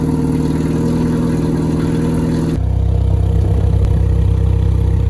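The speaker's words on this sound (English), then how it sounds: "time to take a listen of what the exhaust sounds like on the new BMW 4 Series" A 2021 BMW 4 Series engine idles with a steady low exhaust rumble, then the tone shifts midway to a deeper, throatier drone.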